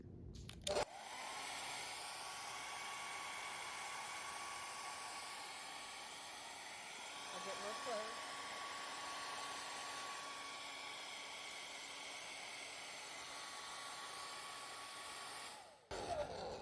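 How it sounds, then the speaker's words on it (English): A hair dryer blows steadily on a crochet doily, giving a constant close whooshing drone that switches on and runs for about fifteen seconds before cutting off. "Yes, you can blow dry your doily if you are in a hurry."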